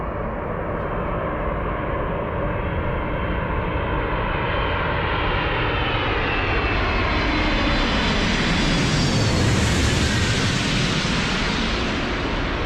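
Firefighting airplane's engines roaring steadily in flight, a loud broadband drone that swells and shifts in pitch as the aircraft passes close by, with no voices.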